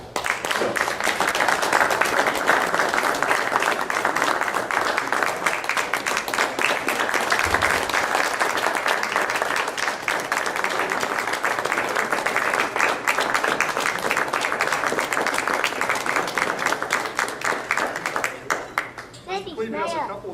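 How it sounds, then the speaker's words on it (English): A school board meeting audience gives sustained, steady applause for Nebraska's 2015 history teacher of the year, close and loud, tapering off near the end. "If you please give him a round of applause."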